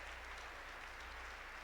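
Church congregation claps for God during a Spanish-language morning service, a faint, steady wash of applause heard at a distance without speech.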